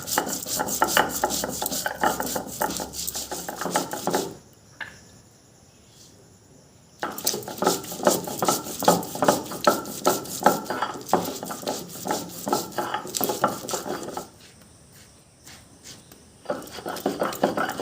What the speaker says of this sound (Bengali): এবার এই যে বেটে নেব আমি